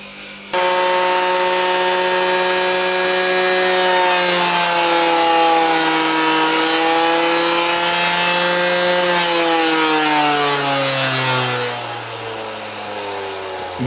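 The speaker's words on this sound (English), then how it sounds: "So what I'm going to do is use a linishing wheel." A motor-driven linishing wheel spins up to a steady high whine and grinds metal continuously, its pitch sagging slightly under load before winding down.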